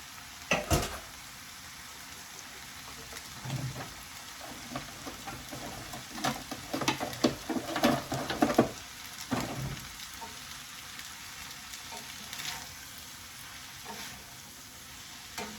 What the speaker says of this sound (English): After the butter melted, we can add your your pasta